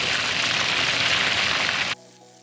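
Spring rolls deep-fry in hot oil with a dense, steady sizzle like heavy rain that stops abruptly near the end, leaving a faint low hum.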